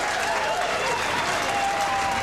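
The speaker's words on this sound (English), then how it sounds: "Well, Cole, that really brought the crowd alive, and I'm sure that'll pump Jenny up." Crowd applause erupting after a strong shot at a 1991 ATBC Masters tenpin bowling match, a steady, dense clapping that fills the whole moment without a break.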